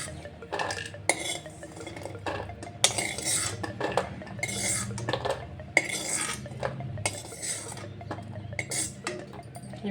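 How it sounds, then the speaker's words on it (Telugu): Metal utensils clink and scrape against a plate and pan while freshly fried millet snack pieces are lifted out, with repeated close, irregular clatters and stirring sounds over a low steady background hum. "ఇప్పుడు ఒక ప్లేట్లోకి తీసేసుకుందాం."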